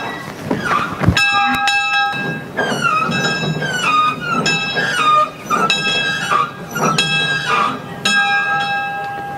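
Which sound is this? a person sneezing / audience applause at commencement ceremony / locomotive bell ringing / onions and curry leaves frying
locomotive bell ringing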